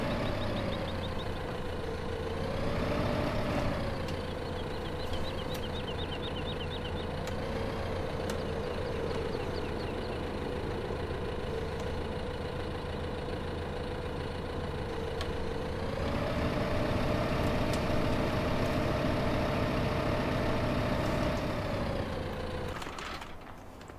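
A tractor engine in the video game Farming Simulator 2015 drones steadily throughout, rising in revs briefly early on and again for a longer stretch near the end, loud and close with no talking.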